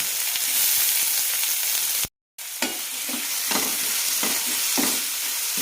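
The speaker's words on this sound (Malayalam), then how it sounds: "ചൂടാകുമ്പോൾ സവാള ഇടാം." Sliced onions drop into hot coconut oil for a Kerala mushroom curry, a dense continuous sizzle that cuts out briefly, then resumes with soft spatula stirs and scrapes, close up with no talking.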